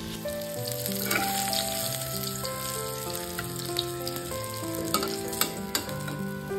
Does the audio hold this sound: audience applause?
no